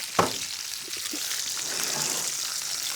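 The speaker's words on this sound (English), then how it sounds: "So I think we got a pretty hard sear on the bottom here." Sea bass searing in a pan gives a steady, moderate sizzle and crackle after a sharp tap of a spatula near the start, close by and without speech.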